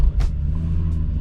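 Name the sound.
Volkswagen Corrado VR6 engine starting up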